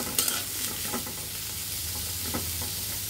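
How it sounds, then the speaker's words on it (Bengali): Hyacinth beans, garlic cloves and chopped onion fry in a pan with a steady, close sizzle. A few light clinks of stirring come through near the start, and no one speaks. "মৌসিম এবং রসুন কোয়াগুলো, পেঁয়াজ কুচিগুলো এর মধ্যে দিয়ে দিব। যখন একটু ভাজা ভাজা হবে"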